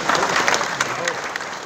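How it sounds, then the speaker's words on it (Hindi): A crowd of farmers at a rally in a grain market applauds to welcome a guest, with dense, sustained clapping from many hands and voices mixed into the noise. "ताली बजा करके जोर लगा के स्वागत करें"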